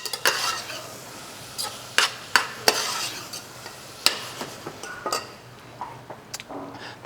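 Carrot and celery stirred as they cook lightly in a pot for Manhattan clam chowder, with scattered sharp utensil clinks and scrapes over a soft sizzle, close and moderately loud.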